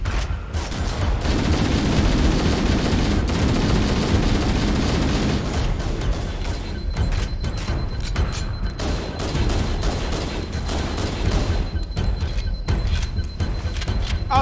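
Rapid shots boom in Halo: Combat Evolved Anniversary, including shotgun fire, as dense overlapping bursts of loud, close blasts that come in quick flurries and then thin into scattered cracks.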